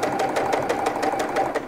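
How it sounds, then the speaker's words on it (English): A sewing machine stitches the top seam of a wool skirt waistband, running at a fast, even rhythmic chatter, close and continuous throughout the short stretch. "Next, I am sewing just the top seam of the waistbands."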